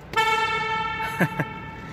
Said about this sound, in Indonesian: Klaksonnya seperti itu.